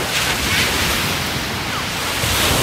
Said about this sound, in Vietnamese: Mấy hôm trước là có mấy cái sóng mà bây giờ nhiều sóng ha.